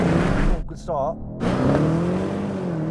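Mercedes-AMG E63 S, Tesla Model 3 and BMW M850i drag racing, with loud engine roar and rushing road noise throughout, dipping briefly partway through, while someone talks over it.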